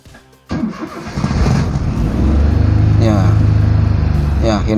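A car that had trouble starting is cranked by its starter and then catches, the engine firing up and settling into a loud, steady close-up idle after a brief whir.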